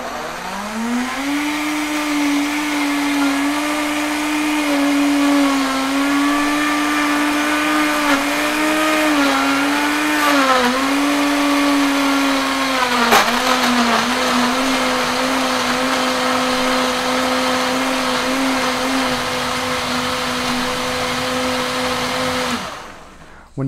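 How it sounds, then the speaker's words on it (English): A blender motor whirs steadily and loudly for over twenty seconds blending a smoothie, its pitch dipping slightly now and then before it cuts off abruptly. "When you guys do blend it, you want to blend it for as little amount of time as possible."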